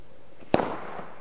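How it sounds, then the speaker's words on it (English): A bottle rocket bursts a pickle with a single sharp, loud bang that trails off in a brief crackling decay over steady outdoor background noise. "Take one, exploding pickle. With bottle rockets."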